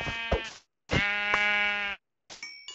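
Minecraft sheep bleat in a few close, loud, wavering calls with a buzzy tone. A long bleat sits in the middle and shorter ones come before and after, with no speech.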